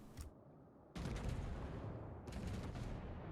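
Naval guns fire in World of Warships on the cruiser Andrea Doria: two loud, heavy broadside blasts about a second apart, each rolling into a long booming rumble that fills the scene.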